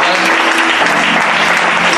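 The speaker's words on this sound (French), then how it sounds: "Je voudrais bien qu'on acclame le Seigneur pour la vie du pasteur Valé" A church congregation at a Bible institute student certification ceremony bursts into loud, dense, sustained applause close by, with voices mixed into the clapping.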